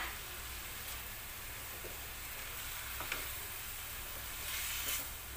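Tomato sizzling with chicken breast in a frying pan, a soft continuous hiss with faint stirring clicks, quiet and steady, no voices.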